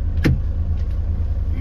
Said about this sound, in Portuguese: Vê um barulho de caminhão aqui, ó.